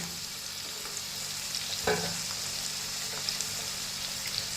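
Garlic fries in hot oil as the tempering for a Punjabi potato curry, giving off a steady, soft sizzle with a brief stir or clink partway through.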